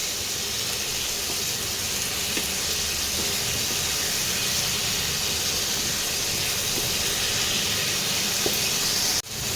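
Tomato and onion fry in salted oil for a Bengali shol fish curry, a dense, even sizzling hiss that holds steady for several seconds before cutting off abruptly near the end, with no one speaking.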